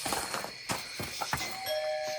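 A doorbell chime rings out, bright sustained tones near the end over a background of scattered clicks and thumps.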